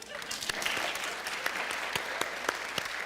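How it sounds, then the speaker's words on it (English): Indoor lecture audience clapping in response to a show-of-hands style poll, a steady wash of many hands applauding for about three seconds with a few sharper claps standing out. "How many of you clap if you think that we are just a projection?"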